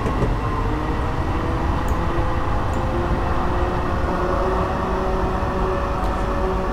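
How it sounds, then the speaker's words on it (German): An F59PHI locomotive in Train Simulator rumbles steadily with a low, even roar and faint sustained whining tones as it slows, with no pauses. "So, wir müssen jetzt bremsen."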